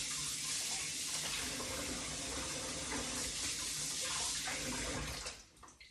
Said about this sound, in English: Let me get this knife rinsed off.